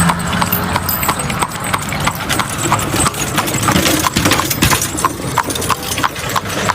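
Rapid, steady clip-clop of toy horse hooves tapping in a quick repeating rhythm, close and fairly loud, with a faint whinny-like sound mixed in.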